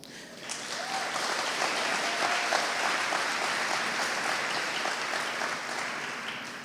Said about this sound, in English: I don't know if I really want people clapping for that